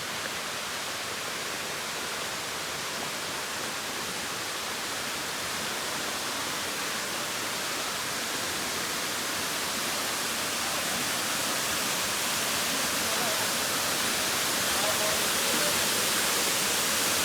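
Kulimagod Falls near Yellapur gives a dense, steady roar of falling water, broadband and unbroken, growing slightly louder over the stretch with no voices over it.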